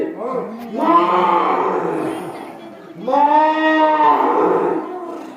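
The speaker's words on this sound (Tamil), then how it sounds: "நாட்டு மாடு" Two long, drawn-out moos from a native-breed cow, one after another with a short pause between, loud and close.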